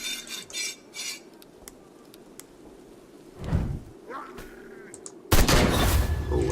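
Gunshots in Sang Froid: Tales of Werewolves, a few sharp reports and clicks spread over a quiet stretch, followed by a louder burst near the end, with a faint voice in the background.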